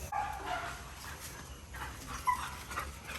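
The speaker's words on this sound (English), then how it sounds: "Dogs are running around like crazy." Dogs yip and bark in short bursts nearby, with some whimpering mixed in over a low background hum.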